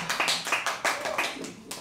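A small audience at a live comedy roast claps in uneven, sparse bursts, with individual hand claps distinct and fairly close.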